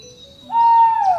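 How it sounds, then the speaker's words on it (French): A single clear, tonal bird call rises and then holds a sustained whistle-like note, close and loud against a quiet background. "j'entends un oiseau chanter"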